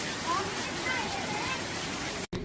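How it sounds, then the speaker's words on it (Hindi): Steady rain falling on the hill streets of Darjeeling near the Mall Road, a dense continuous hiss with no breaks until a brief dropout near the end. "बारिश शुरू हो गई है"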